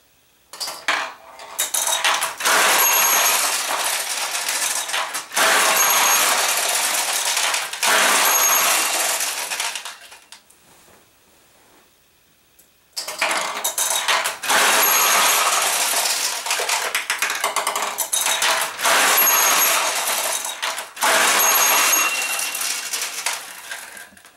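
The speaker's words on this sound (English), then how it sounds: "now I'm going to activate 3 jackpots so you can see all the levers and everything that happens here at the bottom of the machine" A Maruhon pachinko machine runs through jackpot activation, its levers and mechanisms at the bottom clattering with a dense, loud metallic rattle of cascading balls. Two long stretches are separated by a brief quieter pause.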